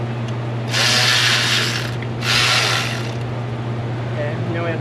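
A ratchet wrench cranks off 10 mm bolts in the engine bay of a 2006 Ford F350 with a 6.0 Powerstroke, two close bursts of rapid clicking over a low steady hum.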